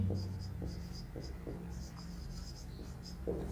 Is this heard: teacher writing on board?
yes